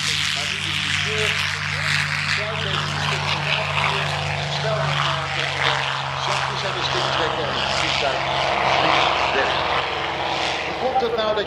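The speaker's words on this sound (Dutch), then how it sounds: "Die propeller gaat draaien, die veroorzaakt wind" North American P-51D Mustang propeller engine at an airshow at Groningen Airport Oostwold, a steady loud drone throughout with someone talking over it.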